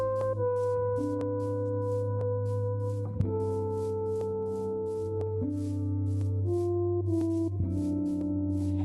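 Soft, sustained synth pads with gentle piano-like notes changing slowly, a calm ambient Minecraft main-menu music track with no voices.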